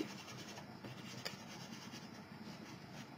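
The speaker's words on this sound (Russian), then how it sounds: "Мягкая резинка очень деликатно относится к бумаге, не растирает ее, не портит." Soft eraser rubbing across watercolor paper, a faint, close, continuous scratchy scrubbing with no voices.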